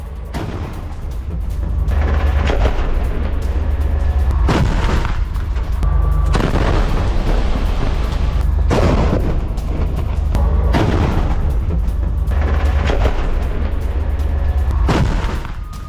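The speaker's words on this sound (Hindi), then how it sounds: "और टैंक से हमास के ठिकाने पर भीषण हमला किया गया है।" Israeli tank fire strikes Hamas positions in loud, continuous heavy booming and blasts that roll on for about sixteen seconds, with dense rumbling and short gaps between bursts.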